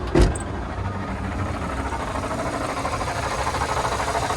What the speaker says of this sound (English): We got a little engine rumble under there.